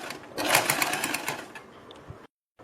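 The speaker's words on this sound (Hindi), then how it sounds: "बीच में से मैंने ये सिलाई लगानी शुरू की है।" A sewing machine stitching a plate-style neck design on fabric, a close rapid mechanical whirr running for about two seconds before stopping abruptly into silence.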